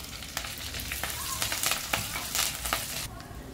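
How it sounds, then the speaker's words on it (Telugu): Cumin, curry leaves, dried red chillies and garlic sizzle in hot oil as a tempering for gongura pickle, a steady close hiss broken by sharp crackles and pops, with no talking. "పోపు బాగా ఫ్రై అయిపోయింది కదా"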